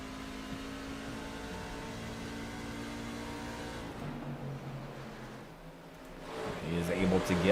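Engine of a racing truck in a sim-racing game, a Truck Series race at Rockingham Speedway, drones steadily at high throttle, dips briefly and then rises again, heard under continuous race commentary.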